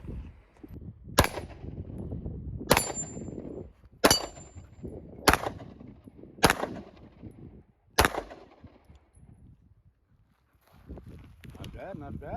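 FMK 9C1G2 9mm pistol fired outdoors, six sharp, loud shots spaced about a second apart, followed by a quiet pause and some handling noise.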